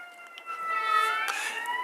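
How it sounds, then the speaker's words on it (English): An ambulance siren passes outside, its rising and falling wail growing louder toward the middle and then holding steady, heard at a moderate distance with no talk over it. "there's a shy ambulance going by"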